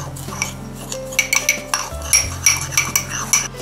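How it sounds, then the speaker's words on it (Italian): A metal utensil stirring seasoned tuna with paprika and salt in a bowl, steady scraping and clinking against the dish, close and continuous with no talking. "E mescolo tutto."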